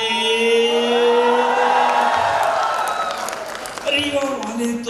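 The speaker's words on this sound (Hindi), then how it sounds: "एक बार पुनः जोरदार तालियों से स्वागत करें एहसान जी का" Loud applause and cheering from a large audience at a comedy show in Rewa, welcoming comedian Ahsaan Qureshi onstage, sustained throughout with a voice calling out over the crowd.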